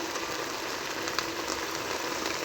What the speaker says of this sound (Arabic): وهسه احمسها هي وياها الثوم